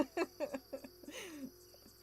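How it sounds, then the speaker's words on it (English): Insects chirp in a summer outdoor setting, a series of short rhythmic pulses and buzzy trills at moderate volume, with no voices over them. "listening to these cicadas"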